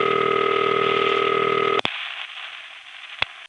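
A DA8 ringing machine on a crossbar telephone exchange line, a steady buzzing ring tone that stops abruptly with a click, followed by quiet line hiss and another click.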